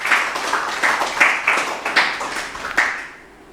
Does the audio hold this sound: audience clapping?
yes